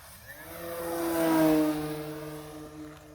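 An E-flite Carbon Z Cub SS 2.1m RC model airplane whines past, rising in pitch and volume as it nears, then fading away as it flies off.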